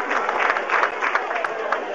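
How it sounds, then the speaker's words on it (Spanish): An audience at the 1997 Nerja carnival award ceremony applauds in a busy, even wash of hands. Crowd chatter and voices mix in underneath. "Un fuerte aplauso para ellos."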